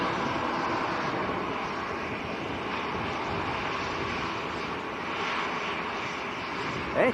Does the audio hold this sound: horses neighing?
no